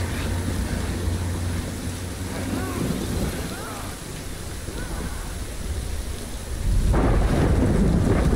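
Thunderstorm ambience from the video game Death Stranding: steady heavy rain hisses throughout while thunder rumbles deep and loud, swelling sharply near the end.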